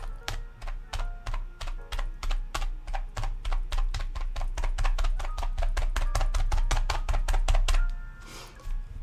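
A felting needle stabbing repeatedly into wool fluff on a base, producing a rapid, even series of close crisp thunks that speed up into a quick pattern before stopping near the end.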